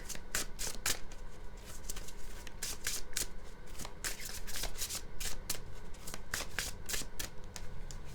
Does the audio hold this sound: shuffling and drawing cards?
yes